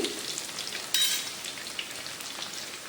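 Garlic and ginger frying in hot oil with mustard and fenugreek seeds for a Kerala toddy-shop style spicy fish curry, a steady soft crackle and sizzle with a brief louder spatter, no talk.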